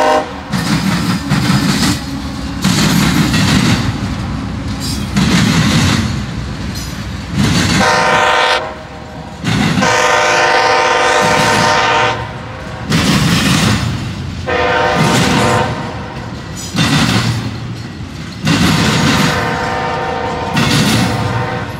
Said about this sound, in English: About 10 minutes and I already got a train.